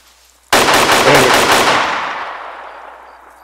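A machine gun in the military shooter Arma 3 opens up suddenly with a loud, rapid burst of closely spaced shots, then rings out into a long, fading echo.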